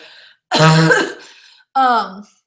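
Two harsh throat-clearing coughs, close and loud, separated by a short pause.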